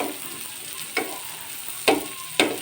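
Sliced onion browns in a pan with a steady, moderate sizzle, broken by three brief utensil taps against the pan, and no talking.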